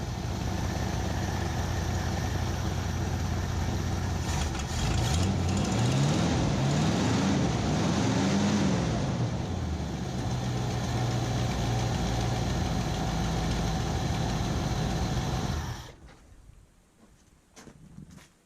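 A 1978 Ford F100 pickup engine idles steadily and loud after a tune-up, a continuous low rumble with slight unevenness for about fifteen seconds before cutting off to quiet near the end.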